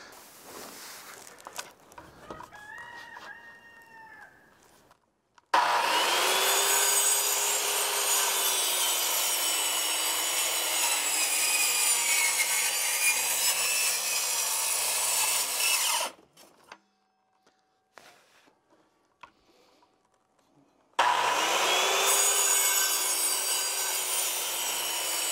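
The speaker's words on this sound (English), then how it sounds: "I'll have to get that last one with maybe a jigsaw or something like that" A power saw cuts through wood while a DIY chick brooder is built: two long, loud, close grinding runs of cutting separated by a quiet pause, after softer handling noises at the start.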